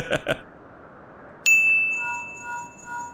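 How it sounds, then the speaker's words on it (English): Incoming call chime from the Final Fantasy XIV video game, a bright sustained ringing tone that starts suddenly and holds, preceded by two short soft blips. "Ding ding, somebody's ringing me."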